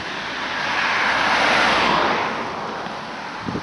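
Waves wash ashore on the Mediterranean coast at Roquetas de Mar in Almería, Andalusia, Spain, as a broad hissing surge that swells and then recedes, steady and moderately loud, with no voices.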